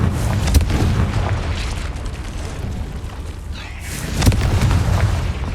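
A Confringo fire spell explodes in a cave in Hogwarts Legacy, with low, rumbling booms that open the clip and swell again near the end over a steady bed of game noise.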